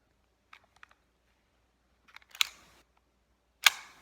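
A magazine comes out of a Tokyo Marui Hi Capa 4.3 airsoft pistol: faint small clicks, then two sharper close metallic clacks with a brief rattle, in an otherwise quiet room.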